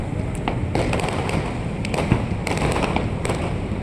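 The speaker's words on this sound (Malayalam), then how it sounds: "ആഹ്ലാദത്തിൻ്റെ സന്തോഷത്തിൻ്റെ പടക്കങ്ങളാണ് പൊട്ടിക്കൊണ്ടിരിക്കുന്നത്" A rapid string of firecracker bangs crackles in uneven bursts, fairly near, over a constant low background roar, at a harbour at night as fishing boats leave in rows after a trawling ban ends.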